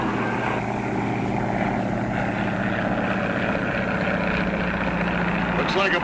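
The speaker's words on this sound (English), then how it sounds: "Look at that plane up there." A propeller airplane drones steadily overhead, a continuous low engine hum that holds through the whole stretch and sits under a busy outdoor street scene with voices.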